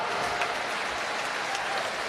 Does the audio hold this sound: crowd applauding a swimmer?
yes